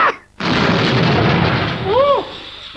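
A comedic sketch explosion effect hits as a broad, loud roaring burst that sustains for about two seconds, with a brief vocal-like warble near the end.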